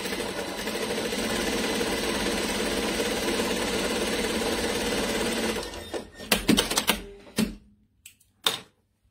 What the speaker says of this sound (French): Je peux faire une petite piqûre ici en bord, une petite piqûre décorative.